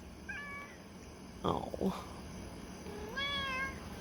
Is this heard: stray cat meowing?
yes